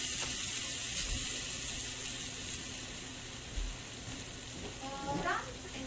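Olive oil sizzling in a pan on the stove, a steady close hiss that softens partway through, with a few clicks and clinks of utensils and a faint voice in the background.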